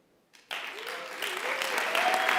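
A room of attendees at a lawyers' association annual general assembly bursts into applause after a brief quiet moment, the clapping building quickly and staying dense and close.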